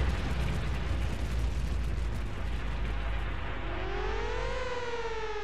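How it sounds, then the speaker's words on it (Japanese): An alarm siren rises and wails in Front Mission 3 over a dense, continuous roar of an explosion, the siren's harmonic sweep entering partway through and holding loud to the end. "市内において爆発事故発生。"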